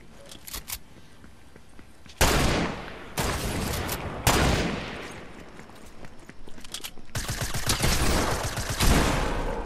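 Gunfire in a Fortnite match, with scattered single shots early on, then loud bursts of rapid automatic fire and heavy volleys that crack out in repeated clusters and grow denser toward the end.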